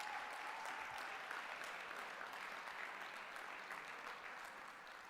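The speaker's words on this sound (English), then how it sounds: "let's give a round of applause for Coach Bellamy" Steady applause from a crowd at a high school football state championship banner-raising ceremony, a dense, even wash of clapping that holds throughout and eases slightly toward the end.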